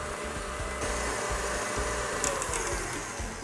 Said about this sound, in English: We need to cream that butter really, really well so it's almost pale and white in colour.